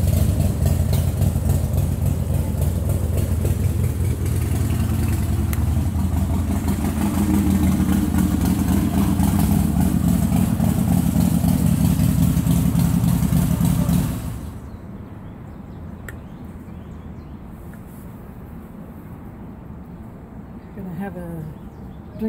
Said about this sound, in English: This guy parks his motorcycle on his patio and he rides right down out of the yard